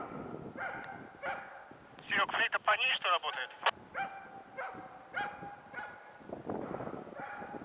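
A hunting dog barks repeatedly during a fox drive hunt, with a quick burst of rapid yapping in the middle, while people talk nearby.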